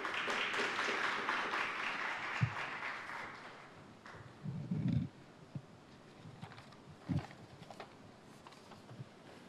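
Applause from a seated audience at a Korean economic policy forum, a soft, steady patter of clapping that fades out over several seconds, with a few louder knocks and thumps scattered through it.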